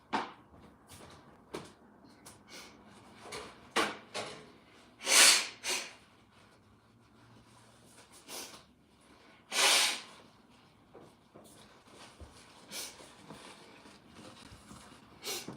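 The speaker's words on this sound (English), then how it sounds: "Sorry. I blow my nose." A person blows their nose in two loud, sharp bursts a few seconds apart, with faint rustling and small knocks in between and no talking.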